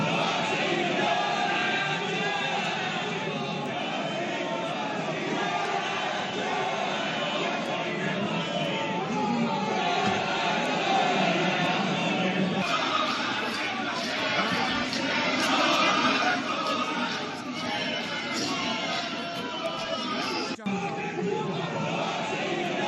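A crowd of lawmakers in a parliament chamber chanting slogans in uproar, a dense, continuous roar of many raised voices shouting together, loud and sustained throughout with no single voice standing out.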